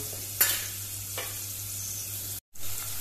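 Chopped onion frying in a pan for a Goan dry prawn curry gives a steady, close sizzle with a couple of brief scraping stirs and a short dropout near the end.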